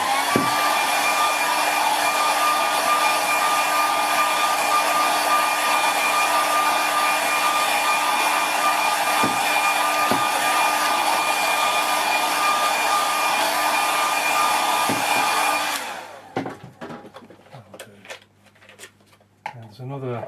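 Hair dryer blowing across a watercolour painting: a loud, continuous whooshing roar with a steady tone that runs about fifteen seconds, then cuts off into soft handling noises.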